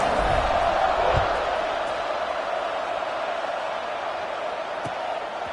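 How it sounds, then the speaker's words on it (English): Broad stadium crowd roar from the NCAA 26 college football video game before a kickoff, a steady wash of distant cheering that swells briefly at the start and then settles into a constant hum. "this crowd now ready to get behind them."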